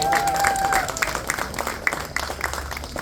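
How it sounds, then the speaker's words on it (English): An audience at a family celebration breaks into applause, a dense patter of clapping that swells and then tapers off into scattered claps, with a voice briefly audible at the start. "give her a round of applause too"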